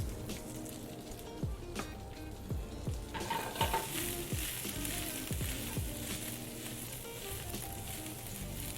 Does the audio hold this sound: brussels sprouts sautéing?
yes